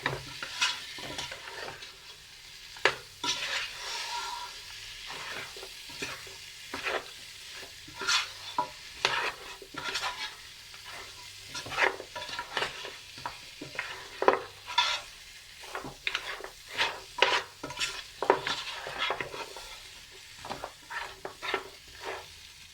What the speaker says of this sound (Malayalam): ഈ മസാലകളിൽ ഇങ്ങനെ നല്ലപോലെ മിക്സ് ചെയ്ത് ഒരു ഇതിലോട്ടൊക്കെ അങ്ങോട്ട് പിടിക്കണം നല്ലപോലെ. അതുവരെ നമുക്കൊന്ന് വഴറ്റിയെടുക്കാം.